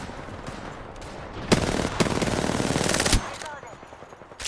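Rapid automatic gunfire in the video game Apex Legends, with loud bursts of shots fired close by and a brief pause before a final burst, while a voice talks underneath.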